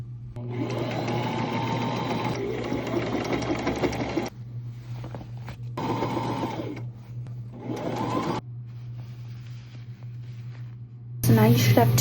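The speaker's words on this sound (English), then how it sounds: "You're just gonna sew this together." A domestic sewing machine stitches a seam on toddler pants in bursts, running for several seconds, pausing, then running again, with a steady hum underneath and a louder clatter near the end.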